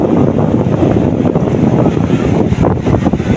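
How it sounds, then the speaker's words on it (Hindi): Sea surf roaring at a beach shore, a steady dense rumble of waves mixed with gusting wind buffeting the microphone, loud and continuous with no talk. "ये सामने ये समंदर का शोर है"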